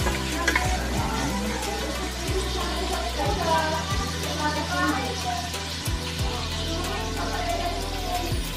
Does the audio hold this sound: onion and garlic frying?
yes